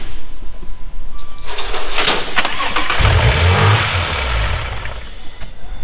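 A Maserati Ghibli 3.0 engine cranks with a short whir, then catches and roars to life with a loud low rumble that settles into a steady idle, close to the listener.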